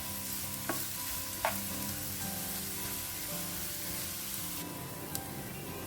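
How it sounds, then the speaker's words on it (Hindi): Onions sauté in a pan with a steady soft sizzle and occasional light clinks of stirring, close and alone. "अब प्याज को ना 1-2-3 मिनट के लिए अच्छे से भून लेते हैं।"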